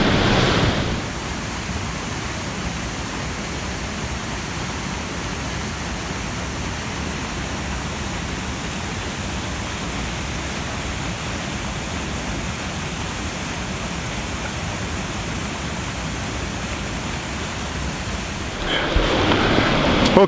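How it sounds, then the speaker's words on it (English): The Saut du Doubs waterfall gives a steady, dense roar of falling water that holds evenly for about twenty seconds, with a slight shift in the sound near the end and no talking. "you see how much water to this waterfall"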